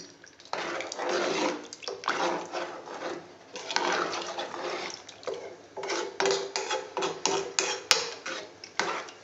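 Two glasses of water are poured into a cooking pot of beans and peas curry, coming in splashy, gurgling bursts with short pauses and a few light clinks of the vessel.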